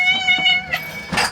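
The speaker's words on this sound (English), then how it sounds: "You'll remember from the last video how violent her meowing has always been" A cat gives loud, harsh meows close by, two or three strained cries in quick succession with no one talking.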